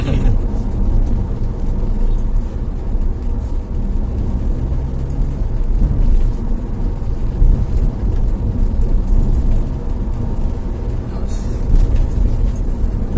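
A 2011 Toyota Avanza fitted with an Excord Power device driving in fourth gear, a loud, continuous engine and road drone heard from inside the cabin, steady throughout with no break.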